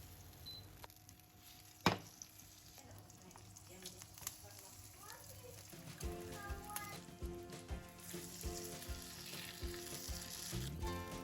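Duck breast skin side down searing in a pan as fat renders out, a crackling sizzle that is quiet at first and grows busier and louder, with one sharp knock early on and no talk.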